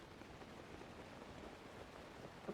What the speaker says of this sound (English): Crazy that it's raining.